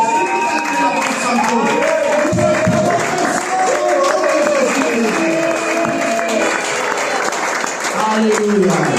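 A church congregation at a Sunday worship service claps and cheers loudly and steadily throughout, with voices calling out and singing over the sustained applause.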